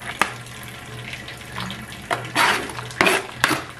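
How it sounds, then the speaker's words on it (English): Child washing a dish under a running kitchen tap, with water splashing and dishes clinking in short irregular bursts, close and fairly quiet. "she's just washing the same dish over and over again"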